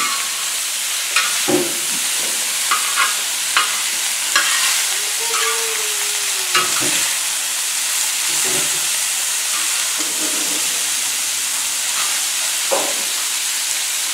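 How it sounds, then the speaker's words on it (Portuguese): Beef fat frying on a plough-disc pan, a loud continuous sizzle and hiss with scattered crackles and occasional stirring scrapes, no talking. "Aí ele vai derretendo a gordura"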